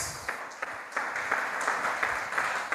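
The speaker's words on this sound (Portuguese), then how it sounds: "pode aplaudir o Senhor Jesus" A church congregation applauds steadily during a worship service, the clapping dense and somewhat distant, with a few louder claps standing out.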